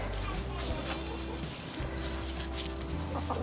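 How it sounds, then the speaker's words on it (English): Chickens clucking close by in a noisy outdoor setting, with a steady background hum and a voice speaking over them. "I'm being chased by chickens."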